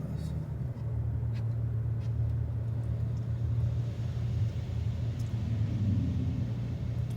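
A Porsche drives just ahead on a road, its engine a steady low rumble heard from inside a following truck, continuous throughout with the cab's own hum blending beneath it.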